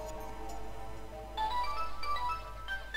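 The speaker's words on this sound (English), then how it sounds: "Suddenly, my phone rings." A phone ringtone sounds in a visual novel game, a bright electronic melody of short rising and falling notes that plays over a low background hum and music bed.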